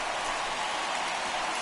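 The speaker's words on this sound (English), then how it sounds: "we've mentioned the conditions aren't ideal with the rain coming down" Steady rain hissing down in the baseball video game MLB 21 The Show, a continuous even wash of falling water with no breaks, fairly loud and alone.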